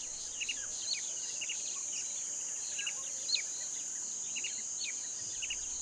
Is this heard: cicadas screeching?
yes